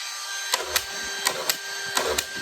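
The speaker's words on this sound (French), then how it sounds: "Pour pouvoir faire tourner l'embout, il faut y exercer une pression." A screwdriver bit turns in a SENCO Duraspin screw-feeding adapter under pressure, giving a steady mechanical hum broken by a series of sharp clicks and ratchety taps at irregular intervals, close and fairly quiet.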